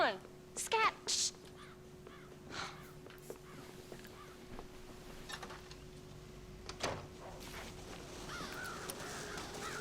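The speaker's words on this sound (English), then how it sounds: "God damn crows!" Crows caw in the Red Dead Redemption game on a ranch cornfield, a few sharp caws near the start and faint ones later, set against a quiet ambient background with brief game sounds and speech.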